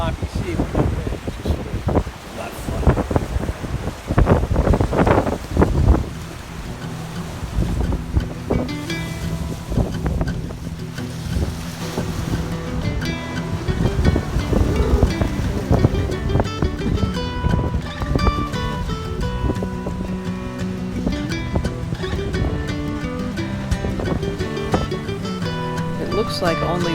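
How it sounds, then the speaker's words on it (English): Gusty wind buffets the microphone while a sailboat rolls through a sloppy, choppy sea off the Maine coast, with water sloshing against the hull and scattered knocks from the boat, and a voice talking intermittently. "This is Maine ocean sailing today."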